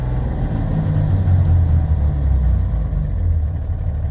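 A Cummins common rail diesel engine revs up and holds a steady low, rumbling drone, close and loud, before the throttle is let off and it begins to settle.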